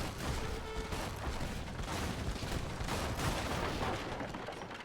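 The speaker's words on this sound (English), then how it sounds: "a battleship attacking the market, a monitor attacking the town center" Battleship and monitor cannons fire in an Age of Empires III match, a dense, continuous barrage of booming shots and crashing impacts, loud and sustained throughout.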